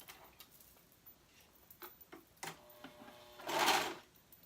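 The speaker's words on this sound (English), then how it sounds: "So I'm just going to go ahead and pin it and sew it together." Sewing machine stitching a top together, heard as a faint rapid patter of needle strokes in short bursts, quiet and close.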